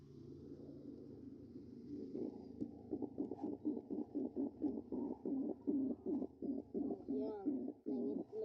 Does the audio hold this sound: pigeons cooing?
yes